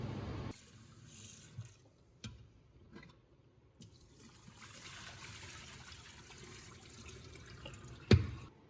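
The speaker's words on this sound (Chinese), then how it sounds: "用净湿机给猪肉净化一下" A purifier machine washing cut pork belly in a basin of water gives a quiet, steady trickling and bubbling wash, with faint splashes and a brief louder knock near the end.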